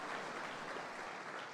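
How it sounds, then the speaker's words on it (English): Audience applause at a faith testimony talk, steady broadband clapping sustained at moderate level throughout, with no talking over it. "That deserves the applause."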